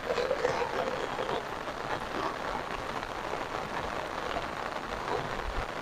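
Steady rain falls outdoors in a Bangladeshi village on a rainy day, a continuous moderate hiss of drops pattering on the ground and nearby surfaces.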